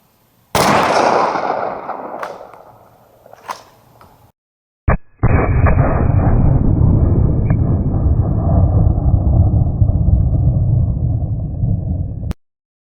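Two blasts from a 12 gauge shotgun loaded with Estate 00 buckshot shells, fired outdoors at a pattern target 75 feet away; each sharp crack is followed by a long rumbling echo, and the second shot is louder with a sustained roll.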